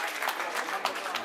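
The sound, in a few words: audience clapping with raised hands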